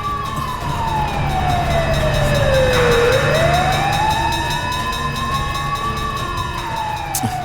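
A fire engine siren wails loudly and close by, its tone sweeping slowly down and back up in a long continuous cycle over the low drone of a truck engine.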